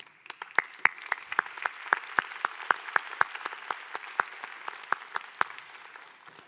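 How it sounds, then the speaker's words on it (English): Audience applause at a Nobel Prize Dialogue event in Seoul, a steady crowd ovation with distinct individual claps ringing out over a dense bed of clapping, moderately loud and sustained throughout. "So I think we should applaud you."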